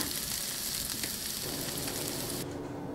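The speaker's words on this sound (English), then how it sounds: "Sauteing the peppers, onions, and garlic here." Peppers, onions and garlic sizzle steadily in a pan while being sauteed, a dense, continuous frying hiss close up with no talking.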